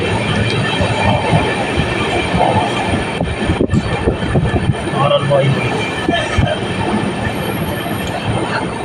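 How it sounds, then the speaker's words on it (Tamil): A passenger train running from Nagercoil Junction to Madurai rattles and clatters loudly from onboard, with wheels squealing against the rails in a continuous rumble. "இந்த ஊரை நம்ம ட்ரெயின் வந்து ஸ்கிப் பண்ணி இப்போ வந்து போயிட்டுருக்கு"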